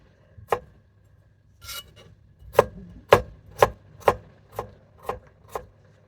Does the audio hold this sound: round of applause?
no